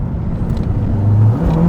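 A 360 BHP Renault Megane RS engine pulls hard under acceleration, a loud close droning growl rising in pitch over a couple of seconds with no talk.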